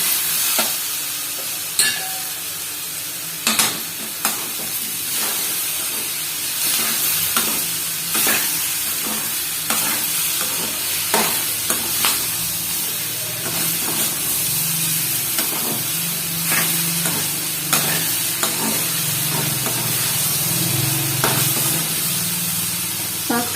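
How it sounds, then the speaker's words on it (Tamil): Potatoes and capsicum stir-fry in a hot pan with a constant close sizzle, broken by repeated scraping and clacking as a spatula turns them over and over. "இந்த உருளைக்கிழங்கு சேர்த்துருவோம். இது கூட சேர்த்துட்டு இது எல்லாத்தையும் நல்லா கிண்டி விட்டுக்கோங்க."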